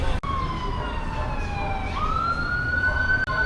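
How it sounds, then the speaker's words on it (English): A wailing siren sweeps up and down in pitch, loud and persistent over morning traffic noise on Arthur Avenue in the Bronx, New York City, as it draws near. "if you can hear that siren that's about to approach me anytime now"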